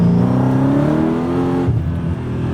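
A Mercedes CLK55 AMG with an M113K engine pulls hard in second gear, its loud V8 note rising steadily in pitch for over a second before easing back at the shift.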